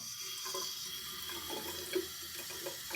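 Tap water runs steadily into a sink while someone rinses off leftover shaving lather with cold water after a razor shave, a soft continuous splashing with a few brief louder splashes, close by and with no voices.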